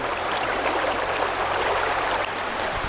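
Stream water rushing past a watermill used to roast chicken, a close, steady broadband wash of flowing water with a faint low hum beneath and a slight dip near the end.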